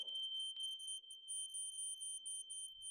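Interlinked hardwired smoke alarms in an HMO property sound together in different rooms, a steady piercing high-pitched tone held continuously, moderately loud, with no talking over it.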